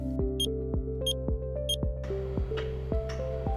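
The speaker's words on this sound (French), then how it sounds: "appuyez simultanément les flèches du haut et du bas jusqu'à ce que le moteur effectue 3 bips" A MultiShade awning motor gives three short, high electronic beeps in a row over its low, steady humming drone, followed by a brief whir of movement.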